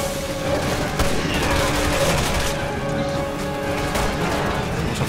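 Tank cannon fire and explosions in the video game Resident Evil 6 form a dense, continuous barrage of loud blasts and rumbling impacts layered over a droning game soundtrack.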